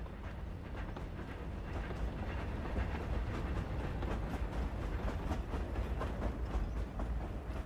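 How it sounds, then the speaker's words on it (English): A train rolls past in the video game Hogwarts Legacy as a steady, low rumble with faint rhythmic clatter, continuous and fairly quiet throughout, with no talking. "I don't know where the train's actually fucking coming in."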